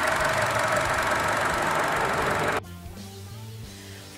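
A 2014 Chevrolet Cruze's 1.4-liter four-cylinder engine runs with a steady mid-level hum, then the sound cuts abruptly to a quieter, tonal idle with soft rhythmic pulses in the final seconds.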